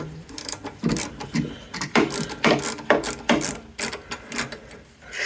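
A ratchet tightens a carburetor on a Briggs and Stratton lawn mower, giving bursts of rapid, close clicking in short strokes with brief pauses between them, fairly loud and with no talking.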